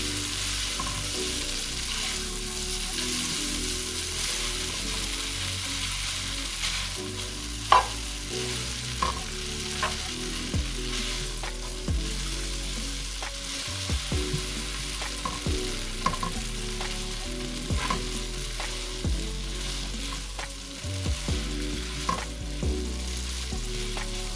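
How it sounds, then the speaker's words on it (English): Lo mein noodles sauté in a pan with a steady, fairly quiet sizzle, punctuated by occasional clacks and scrapes of stirring. "Saute your noodles for a few minutes."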